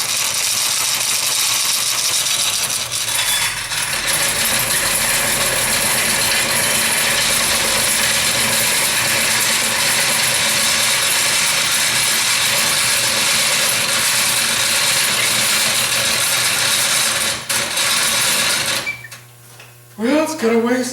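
A handmade hand-cranked lathe turns continuously, a steady mechanical whirring with faint rhythmic clicking, close and fairly loud, stopping abruptly toward the end.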